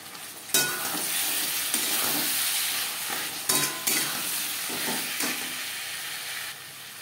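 A spice paste with turmeric and fried spice powder is stirred and fried in a pan for a potato and green banana fish curry, giving a steady sizzle broken by scraping stirs. It is close and runs without any talk.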